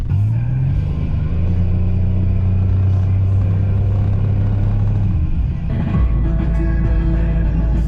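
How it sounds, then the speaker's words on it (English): Continuous low rumble of a car engine cruising along a road, a steady drone with a brief shift in pitch near the end as the motor changes load, heard close and loud from inside the vehicle. "we're gonna keep driving"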